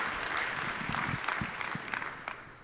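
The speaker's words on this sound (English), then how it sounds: "Give yourself a round of applause for" A closing-session audience gives a round of applause, with dense clapping that fills the room at moderate level and stays continuous to the end.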